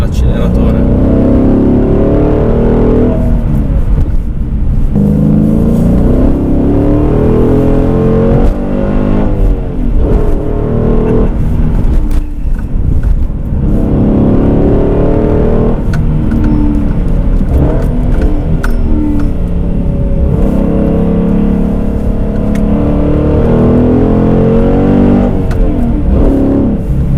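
A Dodge Challenger SRT 6.1 Hemi muscle car with 425 hp accelerates hard, its loud V8 roar rising and falling in repeated surges, steady and close throughout, with someone talking over the engine.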